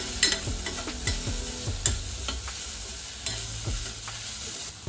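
Red chilli powder, garam masala and turmeric are sautéed in a pan for a ridge gourd dish, with a soft steady sizzle and repeated clinks and scrapes of a spoon stirring; close, no talking.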